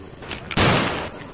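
A single sharp toy gunshot bang with a short decaying tail, preceded by a couple of faint clicks.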